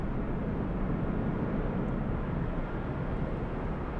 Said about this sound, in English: 757 up next for departure